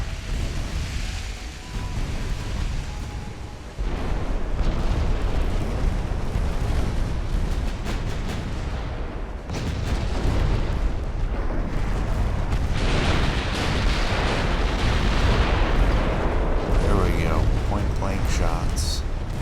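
Heavy naval gunfire from warship turrets in Ultimate Admiral: Dreadnoughts, with a continuous loud rumble of booming shots and explosions over a churning sea backdrop that pauses briefly, then resumes.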